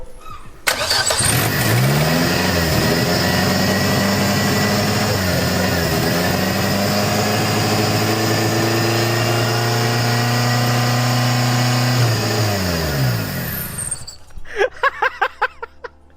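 A Zetec turbo engine in a van fires up and revs hard, a loud, steady roar that rises and falls with throttle blips for about thirteen seconds before cutting off, followed by a few short clattering bursts.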